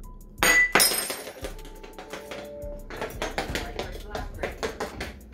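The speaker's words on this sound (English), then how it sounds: "It just heard glass breaking." A glass taken from a movie theater dropped onto a tile floor, giving a sharp crash followed by scattered tinkling and clinking shards, fairly close, with people talking around it.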